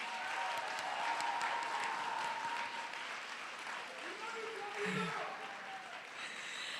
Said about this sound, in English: Let's give a round of applause to all the campaign teams